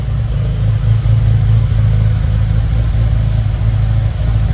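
A 1987 Porsche 930 Turbo engine runs indoors in a storage facility, a loud, steady low rumble with slight swells in throttle, close and continuous with no talking.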